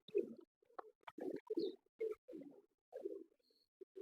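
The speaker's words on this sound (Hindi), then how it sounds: "ये फिरोजपुरी टैडी कबूतर है" A Ferozpuri teddy pigeon coos in a series of low, soft, close burbling calls with short pauses between them, heard alone.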